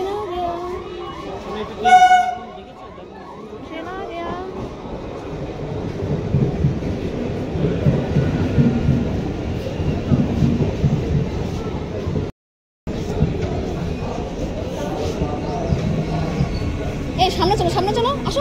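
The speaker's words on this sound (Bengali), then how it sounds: "ট্রেন" A train pulls into a busy railway station platform with a steady rumbling roar and clattering wheels, while people chatter nearby and a voice rises briefly.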